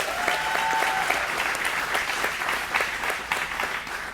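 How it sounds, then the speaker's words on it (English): Audience applause for two guests from a human services campus at a panel event, continuous dense clapping throughout, with a brief faint voice near the start. "Round of applause, please, for Richard and Johnny"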